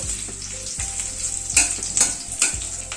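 Chopped ginger and green chillies frying in a pan, a steady loud sizzle with a few sharper spikes where the ingredients are stirred, close and with no voices.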